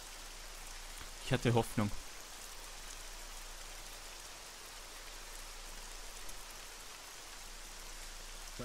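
Steady rain falls and patters across the surface in the video game ArmA 3, an even hiss throughout, with a voice speaking briefly over it near the start.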